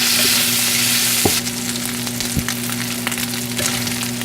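Bacon sizzles and crackles steadily in a hot pan as its fat renders, with a few sharp pops and stirring scrapes, close and alone without any voices.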